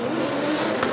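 Drift car at full lock and full throttle against a wall during a D1NZ drifting event, giving a loud, steady engine roar with tyre noise held close for the whole second.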